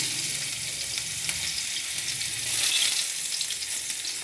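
Crushed garlic frying in hot oil in a pan, a loud continuous hiss that swells briefly in the middle, with faint stirring scrapes, close and without talk.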